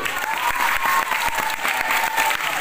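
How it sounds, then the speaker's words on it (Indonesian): An audience at a Maulid Nabi school event claps loudly, with distinct sharp hand strikes in a quick, uneven rhythm over a bright sustained tone and faint crowd noise. "beri tepuk tangan dulu"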